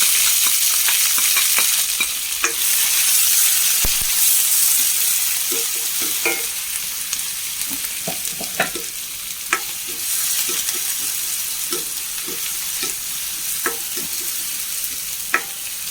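Curry leaves, half an onion, a handful of garlic cloves and green chillies sizzle steadily in a hot pan, a continuous loud fry broken by occasional clicks and scrapes of stirring.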